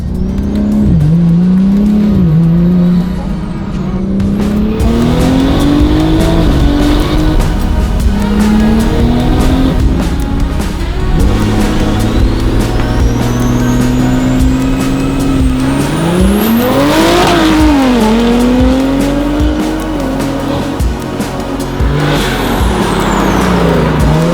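A single-turbo BMW G82 M4 with an S58 engine drifts, its engine loud and close, revving up and down in repeated surges over sustained tire squeal, with wavering pitch and turbo whistles throughout.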